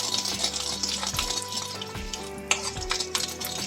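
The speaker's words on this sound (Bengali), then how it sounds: "আমি যে সর্ষেটা দিয়েছি একটু ফাটাই করে গুঁড়ো করে নিচ্ছি" Mustard seeds being crushed to powder for a Bengali hog plum (amra) chutney, with steady rhythmic grinding strokes repeating roughly every second under a scraping, gritty texture.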